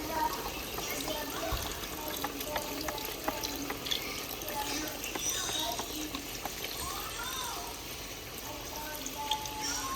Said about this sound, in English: I'm gonna go ahead and add my broth.